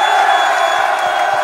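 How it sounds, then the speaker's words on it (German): A packed arena crowd at a darts creator tournament in Cologne roars and cheers in a steady, loud wall of noise with no break. "wir brauchen jetzt nochmal den lautesten Applaus, den Köln zu bieten hat"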